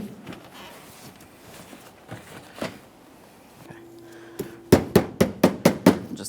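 Parts of a GMC Acadia parking sensor bracket tapped into place: a quick series of about six sharp, loud knocks in steady rhythm near the end, after quieter handling sounds, close up.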